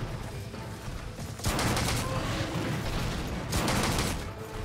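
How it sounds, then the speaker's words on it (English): Gunfire in the Monster Hunter 3 Ultimate video game comes as two dense, noisy bursts over a constant rumbling game background, loud and blended rather than distinct single shots. "Alright, three more shots."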